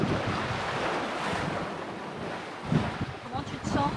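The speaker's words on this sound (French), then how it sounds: "encore une houle croisée" Ocean cross swell at sea during a sailing passage from Gibraltar to the Canaries, broad washing wave noise mixed with wind buffeting the microphone, steady and moderately loud with surges of water toward the end.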